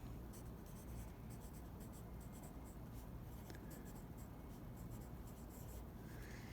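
Colored pencil scratching steadily across paper in a continuous, close, textured scrape with no talking.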